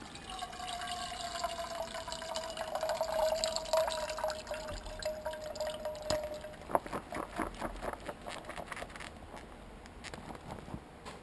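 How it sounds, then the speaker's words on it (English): Water poured from an instant UFO seafood yakisoba noodle cup into an old dirty pot, a steady trickling pour giving way to scattered drips and small splashes, close and moderately quiet. "tip the water into our dirty old pot"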